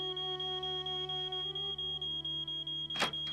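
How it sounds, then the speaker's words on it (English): An alarm in the Nancy Drew: Treasure in the Royal Tower video game gives a steady tonal electronic ring with rapid regular pulsing over a low hum, followed by a brief burst of noise near the end. "she knows that there was an alarm that needs to be triggered"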